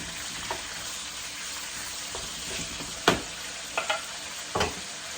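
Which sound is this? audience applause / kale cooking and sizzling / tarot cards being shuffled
kale cooking and sizzling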